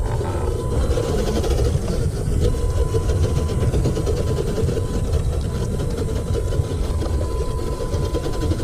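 RC crawler with Injora axles and a locked differential driving outdoors, giving a continuous motor whine over a rough, rumbling drivetrain that stays steady throughout.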